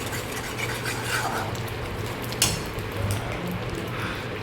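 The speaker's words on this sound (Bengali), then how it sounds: "লবণ, জিরে ধনে গুঁড়ো দিয়ে এটাকে একটু ভালোভাবে কষিয়ে নেব।" A spice mixture of salt, cumin and coriander powder being stirred and sautéed in a pan for a street-style egg curry, with continuous scraping and rubbing strokes of a spoon, close, plus one sharp clink midway.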